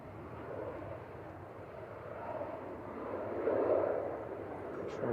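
An Eastern Airways plane rolls down a long stretch of the runway at Manchester Airport, a steady, distant engine roar that swells slightly midway, heard alone.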